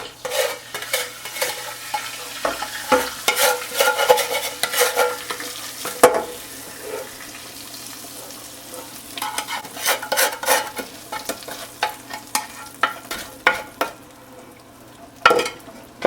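Oil and spices go into a stock pot for homemade chicken soup, giving an intermittent sizzle with scattered clinks and stirring sounds at close range, some sharp louder bursts along the way, and no talking.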